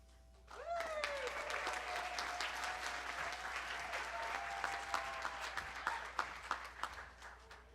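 An audience at a university graduation ceremony breaks into applause, starting abruptly and holding as a dense wash of clapping, then thinning into scattered louder claps near the end, with a faint tone and murmur underneath.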